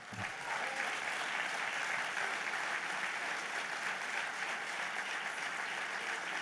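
Sustained applause from a large audience at a union congress, steady and dense clapping throughout with no pauses, a faint voice or two underneath.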